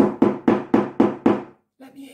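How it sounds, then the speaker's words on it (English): Six quick, firm knocks on a door in an even rhythm, loud and close, followed by a brief pause and the start of a voice. "so he knocked on the door"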